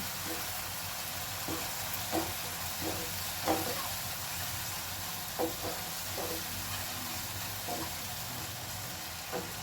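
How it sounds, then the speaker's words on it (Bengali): Spices frying in a pan on medium flame for palak paneer, a steady low sizzle with occasional soft stirring taps spread through, close and quiet with no talking. "ভালো করে সব কিছু মশলা একসাথে কষিয়ে নেব"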